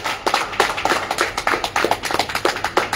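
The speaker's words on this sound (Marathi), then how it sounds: "जोरदार टाळ्या झाल्या पाहिजे, जोरदार." Loud applause from an audience at a public rally, steady rapid clapping from many hands, dense and continuous with individual claps standing out in a near rhythm throughout.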